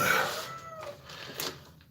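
A hungry cat meows indoors, one drawn-out cry at the start followed by fainter short mews, close by and quiet.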